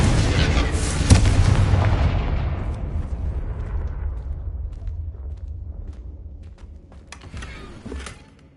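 A Confringo fire spell explodes in Hogwarts Legacy: a loud, close burst with a sharp crack about a second in, followed by a long rumbling decay that fades over several seconds, with a few faint clicks near the end.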